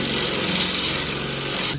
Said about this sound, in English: they're just going to have to be drilled out, and that's what I'm doing right now